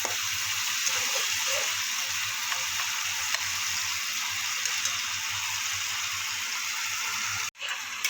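Spices sizzle steadily in a frying pan after a little water goes in while cooking an egg-potato bora curry, a dense continuous hiss close up with faint stirring clicks and a brief break near the end.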